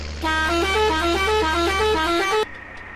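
A steady, musical tractor horn in Farming Simulator 19 (modded Sonalika DI 750) honks continuously for about two seconds, loud and close, then cuts off abruptly, leaving a low hum.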